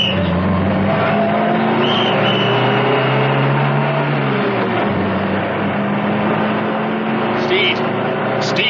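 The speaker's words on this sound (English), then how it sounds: "Steed started her up, and they roared off" An armored car's engine starts and roars off, a loud sustained rumble that rises and shifts pitch, with a burst of gunfire sounds and other effects layered over it.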